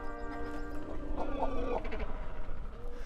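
Cormorants calling during courtship in the Dutch wild, a dense cluster of harsh, guttural croaks and clucking calls from several birds close by, continuous over a steady outdoor background.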